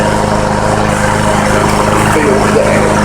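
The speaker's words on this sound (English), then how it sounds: "The sound of lawnmower engines." Lawnmower engines running nearby, a loud continuous droning buzz with a steady pulsing hum that holds level throughout, under faint talk.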